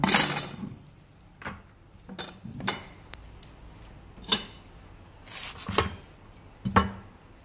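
Knife chopping spring onion leaves on a board while making cucumber kimchi, a handful of sharp separated chops and taps at an uneven pace, fairly close and quiet, with no talking.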